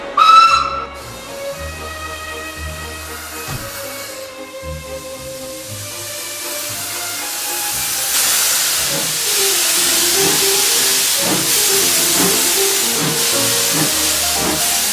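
A vintage steam locomotive hisses and whistles: a sharp whistle blast opens, then steam hiss builds into a loud, steady roar with chuffing bursts underneath.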